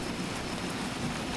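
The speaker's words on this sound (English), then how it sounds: "The material goes into a large blender called a hydropulper." An industrial hydropulper in a São Paulo recycling factory churns recycled Tetra Pak paper with water into pulp, giving a steady, dense wash of rushing, sloshing noise without pauses and no voices.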